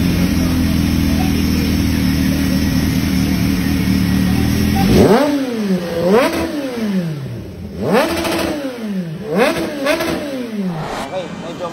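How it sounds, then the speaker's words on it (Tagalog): Kawasaki ZH2 motorcycle with a slip-on exhaust and intact catalytic converter: a steady loud idle, then four or five sharp throttle blips that rise and fall in pitch, close by. "Slip-on exhaust with catalytic."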